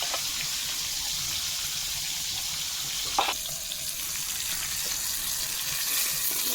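Fish fries in a pan for a home banana and fish recipe, giving a steady hissing sizzle at moderate level with a brief clatter midway and no speech.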